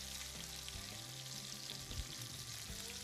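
Food frying in a pan for a Thai-style appetizer, a steady close sizzle and crackle running the whole time with small shifts as the food settles.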